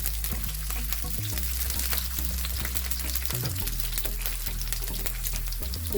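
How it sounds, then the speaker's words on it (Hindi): Finely chopped green chillies fry in a pan while cooking restaurant-style chilli chicken, a steady close crackling sizzle with occasional stirring scrapes and no talk. "4-5 हरी मिर्चें हैं, इसको बारीक काट लिए हैं, इसको हम डालेंगे। इसको भी हल्का सा फ्राई कर लेंगे।"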